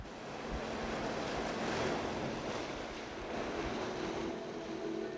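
Sea waves wash against the rocky north coast of Biyangdo island off Jeju, a steady surf roar with wind gusting across the microphone, swelling slightly midway, with no voices.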